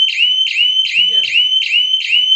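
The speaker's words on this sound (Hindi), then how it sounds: "तो ये सायरन बजना शुरू हो गया है।" A security alarm kit's loud electronic siren, set off by a door opening, wails in a fast repeating pattern, each rising whoop followed by the next, with a brief muffled voice underneath.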